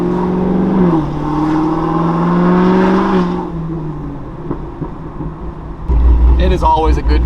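A 1000-horsepower Corvette ZR1 engine drones loudly while driving, its tone rising and falling for a few seconds, then settles before a sharp rev-like burst near the end.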